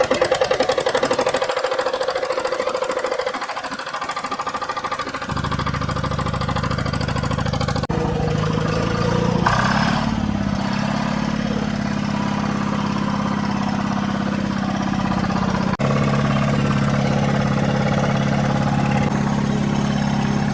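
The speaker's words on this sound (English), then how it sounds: "this 271 cranked up in 2015 with its roots blower still producing Detroit Diesel's" A Detroit Diesel 271 two-stroke engine with a Roots blower runs steadily, a loud close mechanical drone with a rough, knocking idle that shifts in pitch partway through and carries on alone without voices.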